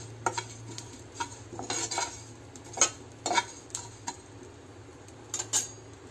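Sesame seeds being stirred and dry-roasted in a pan: scattered metallic clinks and scrapes of a utensil against the pan, in irregular bursts over a steady low hum, with no talking.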